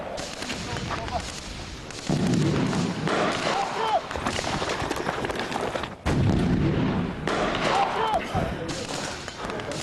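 Bursts of rifle fire crack out during an SAS desert training assault on a building, loud irregular shots and thuds over a continuous outdoor din, with voices shouting between them.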